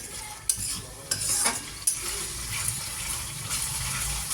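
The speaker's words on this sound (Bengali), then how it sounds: "আর মশলাটা ভালো করে কষিয়ে নিতে হবে, তেল ছেড়ে দেবে।" A spatula scrapes and stirs spice paste frying in hot oil in a pan, with sharp scrapes at irregular intervals over a continuous close sizzle.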